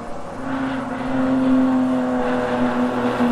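Porsche race cars on track at Snetterton passing across the line, a sustained engine drone that swells and holds steady, fairly loud and close with a wind-like roar beneath.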